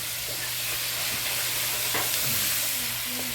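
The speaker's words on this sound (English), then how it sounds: "Stir that in." Thyme being stirred into a pot of yam stew, a spoon scraping and swirling through the thick mixture over a steady low simmering hiss, with a few soft clinks and bubbles, no voices.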